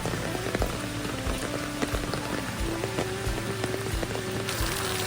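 Steady rain pours down at a resort in Wayanad, a dense continuous patter on surfaces with scattered heavier drips, close and fairly loud throughout, no voices.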